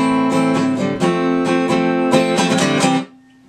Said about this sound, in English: So I'm going to do it fast now.